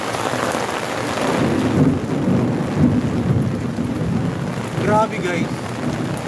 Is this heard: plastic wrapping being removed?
no